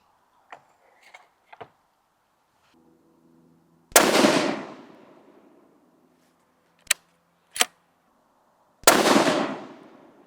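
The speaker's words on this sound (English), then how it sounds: "Let's shoot this last 3-shot group" Hunting rifle firing during a group of shots: two loud, sharp reports spaced about five seconds apart, each with a trailing decay, separated by quiet stretches with faint clicks and handling noises.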